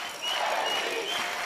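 A table tennis crowd breaks into a burst of applause and cheering, a dense wash of clapping that swells after a brief quieter start and holds steady.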